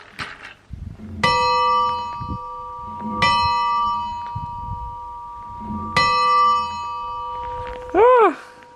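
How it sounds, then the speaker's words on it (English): A bell rung by hand at a mountain spot in the Dolomites on a winter hiking trail, struck three times with long ringing tones, close and loud, with low rumbling noise and brief talk between strikes. "Should I ring the bell?"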